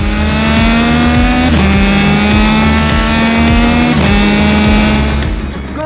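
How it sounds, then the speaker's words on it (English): A Triumph Tiger 660 inline triple pulls hard, its loud, close engine note rising steadily and dropping at each quick-shifter upshift with a crisp pop, a couple of shifts with no talk. "just listen to the pops of the quick shifter."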